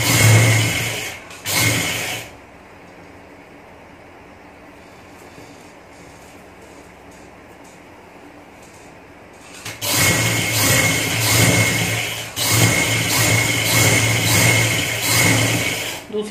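A sewing machine stitches fine pintucks along a trouser edge, with a steady close motor whir in two long runs around a quieter pause.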